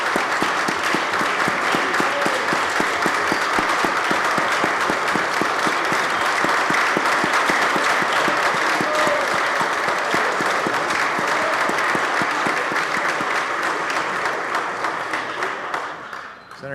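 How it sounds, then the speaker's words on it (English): Sustained applause fills a New York State Senate chamber session as former senator Marty Connor is welcomed on the floor, a dense steady clapping from many hands that holds strong throughout before tapering slightly at the end. "let's give him a big round of applause"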